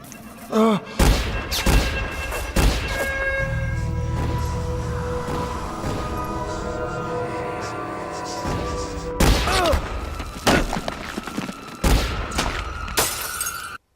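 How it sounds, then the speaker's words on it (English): A revolver firing in a scene from a 1998 animated series, a rapid burst of loud cracks with shattering impacts and booming crashes amid a dense, chaotic action soundtrack. "the killer pulls out a revolver and tries to shoot Terry"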